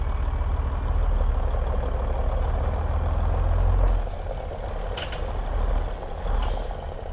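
Kenworth W900 truck with an 800-plus horsepower engine idling in American Truck Simulator, a steady low diesel rumble throughout with a couple of faint mechanical clicks near the end.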